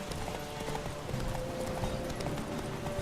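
A horse's hooves clip-clop at a steady gallop in The Witcher 3, a rapid rhythmic thudding close by over ambient game sound, with a faint neigh.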